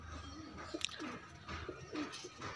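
Lucka pigeons give soft, repeated cooing calls at close range, low and fairly quiet, with a few brief chirps mixed in and no speech.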